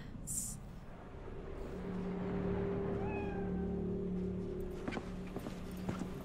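A cat meows a few times in the video game Cyberpunk 2077, soft rising calls standing out over a low, humming ambient game background with faint clopping sounds.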